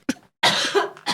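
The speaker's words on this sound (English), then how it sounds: "And I'm still coughing." One person coughs, a short sharp hack followed by a longer, rougher cough and a small final burst, close and loud with nothing else around it.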